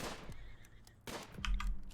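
Horses neigh in the colony-building game RimWorld: a whinny at the start, another at about one second, then a louder call with a low thump, close and clear, with no talk.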